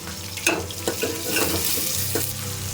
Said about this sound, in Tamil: இந்த நேரத்தில் வந்து நம்ம ஆனியன் ஆட் பண்ணிக்கலாம் அதுவும் சேர்த்து நல்லா வதங்கட்டும்